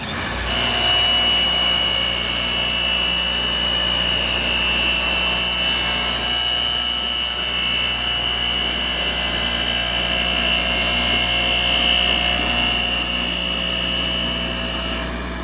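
A bedknife grinder grinds a mower bed knife in a long, steady, loud mechanical whine with constant high tones and a low hum, a gentle swell and fade as the grinding pass moves along, with no talk.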